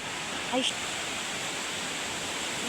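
A flooded river after heavy rain rushes with a steady, broad hiss of water, moderately loud and continuous, with a brief voice over it.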